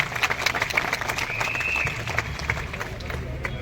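An audience at a public talk on microfinance debt bursts into dense, continuous applause, many hands clapping quickly together at close range for a few seconds.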